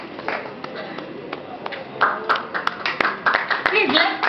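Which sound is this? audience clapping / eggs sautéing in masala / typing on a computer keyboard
audience clapping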